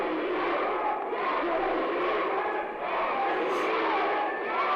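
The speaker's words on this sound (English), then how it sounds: "The crowd wants to see Darin Corbin lose this." Wrestling crowd at a Destination Pro event roaring for N.D.S., a dense continuous swell of cheering and shouting that fills the space, with a commentator's voice faintly mixed in.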